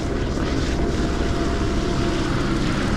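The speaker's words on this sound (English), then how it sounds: "There's a chopper right there." Helicopter flying overhead near a helipad in a city district, a steady loud rotor and engine roar that stays constant throughout, with no talking.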